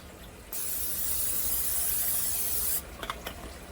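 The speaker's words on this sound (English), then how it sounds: "in this pan, we are going to spray it first" A short, steady burst of cooking spray hisses into a pan for about two seconds, followed by a few light clicks and taps.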